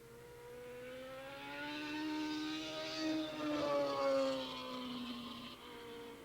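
Racing motorcycles at a 1987 ARRA Formula 2 race at Willow Springs International Raceway, one a Kawasaki that is running poorly, sweep past on track with a rising then falling engine whine, fairly faint and distant, and no voices.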